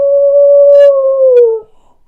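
A dog howls once, a long sustained wavering note that slides down and breaks off near the end, close and loud, with no talking over it.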